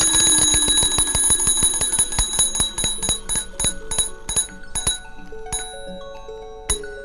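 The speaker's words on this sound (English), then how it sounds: "and triggers a bell." Electric bell on an early electrolytic telegraph rings in a rapid run of bright metallic strikes that slow and space out, with ringing overtones decaying between hits and a final lone strike near the end.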